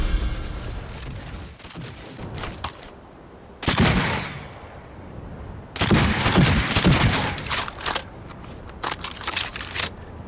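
Smart shotgun in a first-person shooter video game, firing several loud, booming blasts in separate bursts with short quieter gaps of mechanical handling between them.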